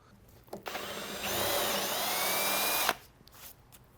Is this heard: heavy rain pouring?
no